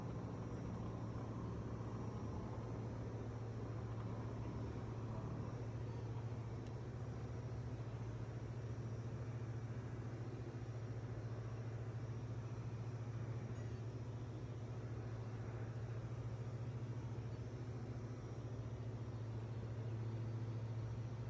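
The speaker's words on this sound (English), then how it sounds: "engine takes a very long time to generate power and speed as the propeller cuts through much thinner air" A light aircraft's engine and propeller drone steadily through a takeoff roll at a high-altitude airport near the Grand Canyon, a loud, continuous low hum with broadband roar that holds level and unbroken throughout.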